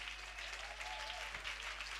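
A church congregation applauding during worship, a brief, even wash of clapping at low level under a constant hum.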